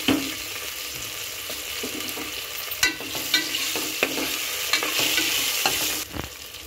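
Potato pieces for Karnataka-style sambar fry in hot oil, producing a steady close sizzle, with stirring scrapes and a few sharp clicks against the pan.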